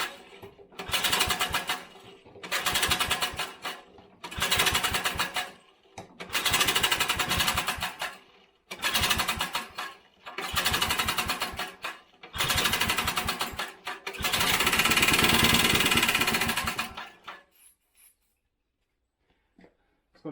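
Vintage Briggs small engine after more than 20 years unused, cranked over in six or seven short bursts of rapid chugging, each lasting about a second, then a longer sputtering run that dies away into silence.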